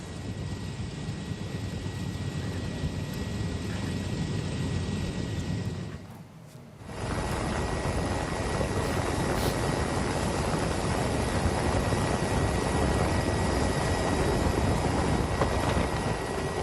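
Indonesian Air Force Caracal helicopter in flight over a flood-damaged area, a loud continuous rotor and engine roar heard from on board, briefly dipping around the middle before resuming.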